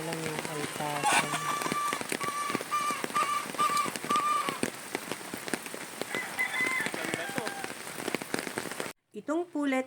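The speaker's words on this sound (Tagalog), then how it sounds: "Hindi na nga tumila ang ulan at lalong lumakas pa." Heavy rain pours steadily on a surface at a gamefowl farm, with roosters and other fowl calling through the downpour and a voice speaking briefly near the end.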